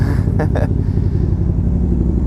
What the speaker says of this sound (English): this thing come in because supposedly it's making some crazy engine noises